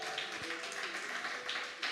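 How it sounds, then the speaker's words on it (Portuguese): A church congregation claps together, a soft, diffuse wash of many hands at a distance, fairly quiet and steady throughout with no clear talk over it. "Quem ama a palavra de Deus,"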